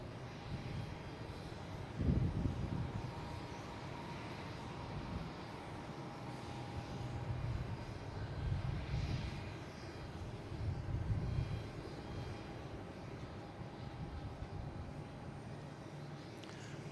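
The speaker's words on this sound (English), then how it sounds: "Next coming in is American Airlines Flight 12, coming in from LAX," American Airlines A321 airliner arriving from LAX at Boston Logan, a steady low engine rumble at a moderate distance with gentle swells in loudness, no voices.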